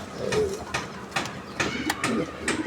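A GNS pouter pigeon hen coos close by, giving several short, throaty coos in an uneven rhythm.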